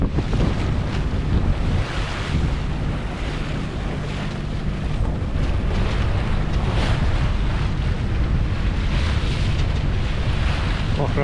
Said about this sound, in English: It was really, really windy.